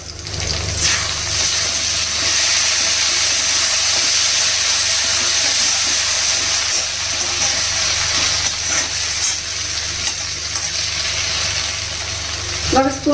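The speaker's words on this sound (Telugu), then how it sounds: "ఇలా కడిపేసి మూత పెట్టేసి సిమ్లో మీద కొద్దిసేపు మగ్గించాలి." Leafy greens cook under a lid on low heat, giving a steady close sizzle and hiss that runs throughout, with a few faint clicks and stirring scrapes.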